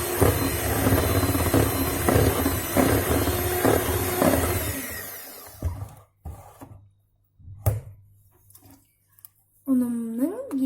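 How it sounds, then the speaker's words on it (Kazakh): An electric hand mixer whirs through cake batter with flour being worked in, a dense motor drone with rhythmic scraping for about five seconds, then stopping; a few bumps and a voice follow after it falls quiet. "Бірінші ұн шашырап кетпеу үшін осылай миксермен араластырамын."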